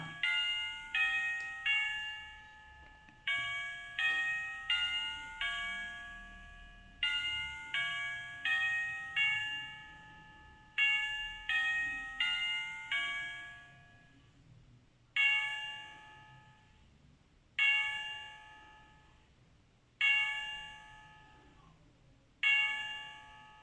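Clock chimes ring out in a melodic sequence of bell tones, followed by slower, evenly spaced single strikes counting the hour, each ringing and fading.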